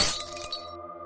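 Glass shatters in one sharp, loud crash followed by a brief tinkling spray of falling shards, with a low resonant ring lingering as it fades over about a second; the glass is building windows, and no voices are heard.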